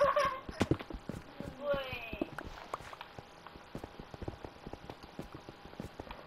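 Hooves of a horse in the Minecraft video game clop along in a steady walking rhythm, soft and close, continuing throughout beneath a person talking.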